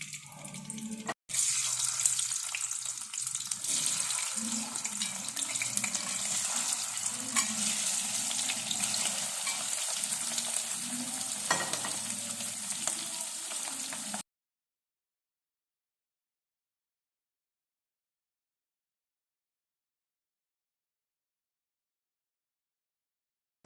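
Potatoes frying in salted oil in a pan, a steady, close hiss and sizzle lasting about fourteen seconds, then cutting off into silence.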